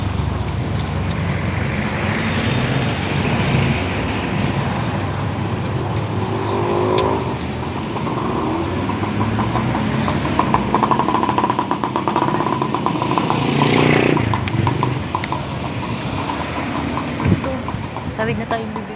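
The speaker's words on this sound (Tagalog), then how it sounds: "Sobrang traffic." Heavy street traffic on a busy road while walking to a clinic: a steady, loud roar of engines and passing vehicles fills the whole stretch, with voices faintly mixed in.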